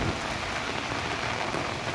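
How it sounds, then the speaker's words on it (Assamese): Heavy rain pours steadily during a storm with strong wind, a dense unbroken hiss of drops with no pauses and no voices. "বৰষুণ আহিছে।"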